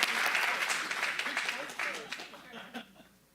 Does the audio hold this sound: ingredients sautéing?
no